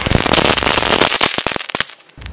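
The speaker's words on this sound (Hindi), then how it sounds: "और अब चलाते हैं चटर पटर क्रैकर को," A chatar patar Diwali firecracker crackles loudly and close by, with a dense run of sharp pops thinning into scattered separate snaps near the end.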